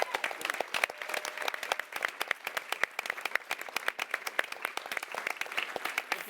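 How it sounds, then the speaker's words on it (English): A live audience at a television panel event applauds the show's writers with steady, fairly distant clapping, individual claps distinct within the continuous wash of applause. "So if we can give them a round of applause."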